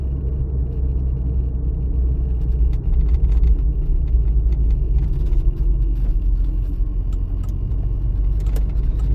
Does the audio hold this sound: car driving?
yes